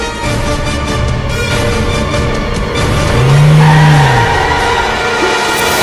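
A car driven along a road, its loud engine rumble and road noise building as it comes to a halt, with a short low whine near the end.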